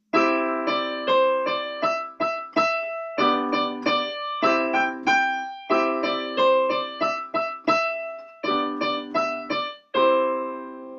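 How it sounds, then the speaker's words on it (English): Piano chords strike in a steady rhythm beneath the simple melody of Mary Had a Little Lamb, each chord ringing and decaying, played alone at moderate volume. "if I was to play Mary Had a Little Lamb with chords"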